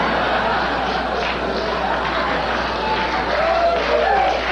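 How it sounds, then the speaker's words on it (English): Studio audience at a late-night talk show bursts into loud, sustained applause that fills the room evenly from start to finish, with a faint voice rising briefly near the end. "These people started the applause."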